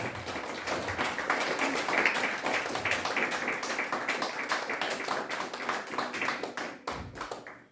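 A church congregation claps for the Lord, many hands in dense, rapid, continuous clapping that holds strong for several seconds before thinning out and stopping near the end.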